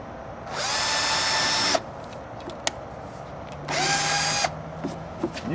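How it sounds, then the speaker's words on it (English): A power drill bores holes into a cracked plastic ATV fender in two sustained, loud whirring bursts, with a short click and small knocks between them. "You can drill holes all the way down and then fill them in"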